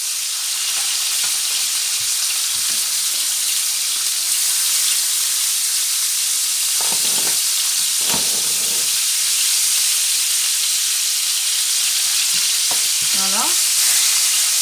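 Salted bitoyo fish fries skin side down in a little oil and gives a loud, steady sizzle and hiss throughout, with occasional scrapes and clinks from a utensil.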